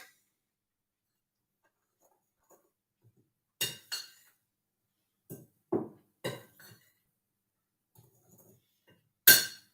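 A spoon stirring muffin batter with sugar in a mixing bowl gives a handful of light clinks and scrapes against the bowl, spaced irregularly with quiet gaps between, close and fairly soft with no talking.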